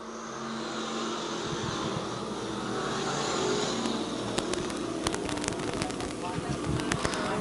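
Pure Stock race cars roar around Lakeside Speedway at an opening-night race, a steady engine drone building with sharp crackles and bursts toward the end, heard under an announcer's voice.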